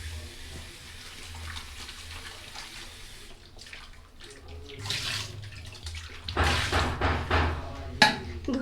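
Five tomatoes are washed under running tap water in a home kitchen: a steady rush of water with splashing and handling that grows louder and busier toward the end, plus a sharp knock near the close.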